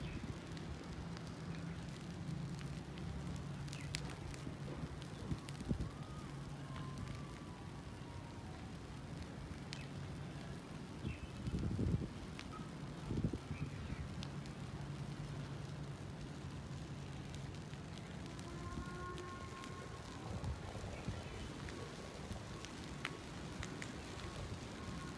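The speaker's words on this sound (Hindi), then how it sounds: "मैंने आग लगा दी है दो जगह पे, अभी काफ़ी ज़्यादा गंद जल जाएगा।" A backyard fire of garden waste, lit in two places and spreading in strong wind, gives a steady low crackling roar with occasional sharper pops, fairly loud and continuous without talk.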